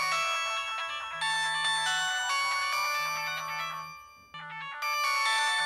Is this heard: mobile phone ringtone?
yes